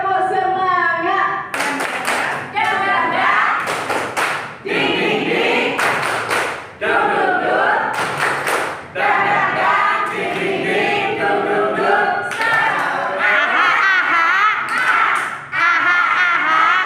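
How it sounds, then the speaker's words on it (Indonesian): A group doing a rhythmic spirit clap during a workshop session, loud bursts of patterned clapping in several rounds separated by short pauses, with people talking between them. "Kita tepuk semangat dulu."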